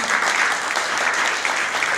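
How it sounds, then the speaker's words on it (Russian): Concert hall audience applauds to welcome a folk performer at a Tatarstan composer's memorial evening, a loud, dense and steady wash of clapping with no breaks. "Давайте аплодисментами ее приветствуем"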